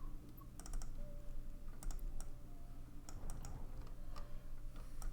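A computer mouse clicks while steering a ship in a space game: scattered sharp, quiet clicks, some in quick pairs or small bursts, over a soft steady background hum with no talk.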